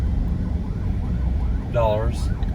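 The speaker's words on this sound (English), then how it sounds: "Where the ambulance came from?" An ambulance siren wails faintly in the distance, its rising and falling tone briefly surfacing over a heavy low engine rumble inside a moving vehicle in the Philippines.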